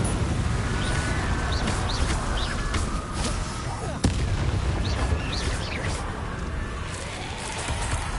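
Fire spells cast in Hogwarts Legacy, a dense rumbling crackle of blasts and bursts rolling on steadily, with one sharp crack near the middle and faint high chirps above.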